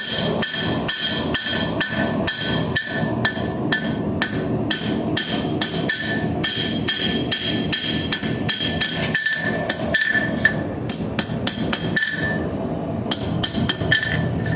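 Blacksmith hammering a hot nail on a cold anvil, a steady series of sharp, ringing metallic strikes close by, evenly paced with brief pauses between runs.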